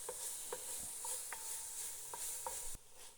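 Onions stirred in a pot for smothered cabbage, a spoon scraping and knocking several times against the bottom over a steady sizzle, close and fairly quiet with no talking.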